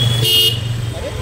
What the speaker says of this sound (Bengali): হর্ন তো পুরো ঠিক হয়ে গেছে